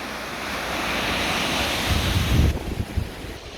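Fast, swollen river water rushing during a storm in constant rain, a steady broadband roar with wind buffeting the microphone and heavier low surges near the end.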